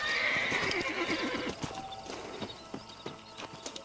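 A horse neighs loudly with a drawn-out whinny in a Western canyon scene from the Red Dead Redemption video game, followed by a series of clip-clopping hoofbeats that grow sparser and fainter.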